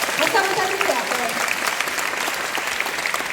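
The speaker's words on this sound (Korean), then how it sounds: "박수 한번 쳐주세요" An audience at a Korean business seminar claps for a presenter, a loud burst of applause that carries throughout, with a voice briefly over the start.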